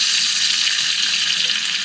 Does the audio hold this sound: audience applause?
no